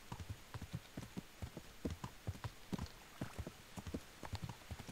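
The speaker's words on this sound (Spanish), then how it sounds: "Vamos a llamar a nuestro caballo. Vamos a montar. Y vamos raudos hacia el monasterio." Horse hooves in the video game Kingdom Come: Deliverance, a steady run of fairly close clip-clop beats rolling along alone with no talk.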